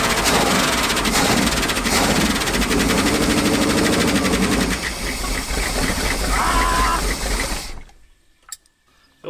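A boat's fuel pump, on a big-block engine revived after years, runs with a loud mechanical whir and rattle for several seconds, then cuts off abruptly, leaving near silence with a few faint clicks.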